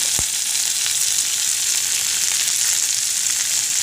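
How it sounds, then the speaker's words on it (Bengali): Chopped tomatoes sizzling loudly in a frying pan after ginger, a dense continuous hiss held steady throughout, close up, with one short thump near the start and no voices. "টমেটো কুচিগুলো দিলাম"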